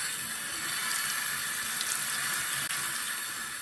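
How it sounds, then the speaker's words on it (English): Water runs steadily from a tap into a sink while doll hair is rinsed, a continuous close hiss and splash throughout with no talking. "I'm going to rinse all of this out and comb it through with my fingers"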